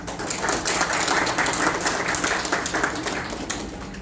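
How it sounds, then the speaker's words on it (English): An audience at a hospital's World Heart Day celebration claps for the chief guest, producing a continuous wash of applause that holds steady before easing off near the end. "a big round of applause for our chief guest."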